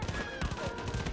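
Machine gun fire in Far Cry 5 hammers out a rapid rhythmic burst of close, loud shots across about a second.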